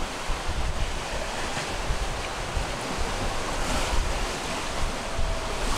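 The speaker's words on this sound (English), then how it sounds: "today we've got a busy sea, still with a big swell" Busy open sea with a big swell heard aboard a sailing Leopard 45 catamaran under way in the Black Sea: continuous broadband wash of waves and surf mixed with wind noise, steady and moderately loud with no talking.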